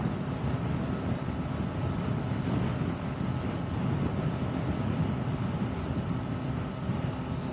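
A 2023 Yamaha MT-09 motorcycle rides along with steady engine drone and heavy wind rush, a constant broadband roar that stays loud and even from start to finish.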